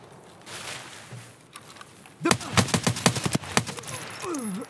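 A suppressed AKS rifle in Escape From Tarkov fires a rapid burst of muffled shots after a quiet stretch. The shots are close and fairly loud, and a faint voice is heard near the end.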